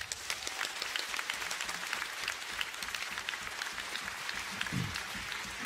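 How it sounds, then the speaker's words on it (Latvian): A concert audience gives steady, dense applause for maestro Raimonds Pauls, an even wash of many hands clapping at moderate volume throughout. "Un es gribētu, lai mēs visi veltām maestro veselības aplausus."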